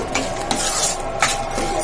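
A spoon works through a chopped cucumber mixture in a bowl, with repeated close scraping and soft wet clinks at a loose, uneven rhythm.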